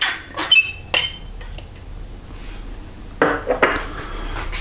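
A utensil stirring dried parsley, garlic powder and corn flour in a bowl, giving a few sharp clinks and scrapes against the bowl in short bursts with quiet gaps between them.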